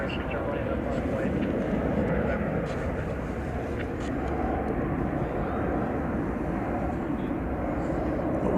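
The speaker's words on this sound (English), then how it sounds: "we would expect this to get a lift off here right about now" An American Airlines jet taking off at night at DFW Airport, its engines a steady broad roar that holds loud and even throughout, with a voice talking over it.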